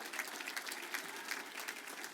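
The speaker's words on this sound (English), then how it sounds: "Give them a round of applause." Audience applause at a university alumni awards ceremony, a dense, even patter of many hands clapping throughout, moderately loud and steady with no voices over it.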